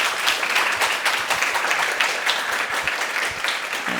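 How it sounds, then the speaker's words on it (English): A lecture audience applauds after a talk on artificial intelligence, giving steady, close clapping from a room full of people with no voices over it. "give another round of applause"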